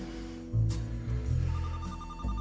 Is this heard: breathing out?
no